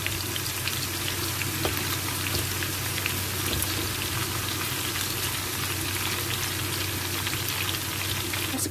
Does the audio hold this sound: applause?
no